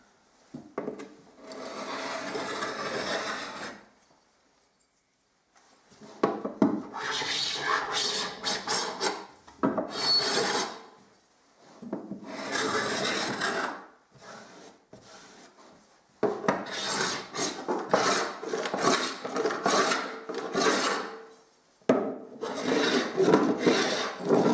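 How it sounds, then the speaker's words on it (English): A paint scraper rasps along the edges of old silicone in repeated long scraping strokes, each lasting a few seconds with short pauses between, close and fairly loud with no talk. "I've got my paint scraper. I'm just going to bring it down both of these edges to try and start to release some of this"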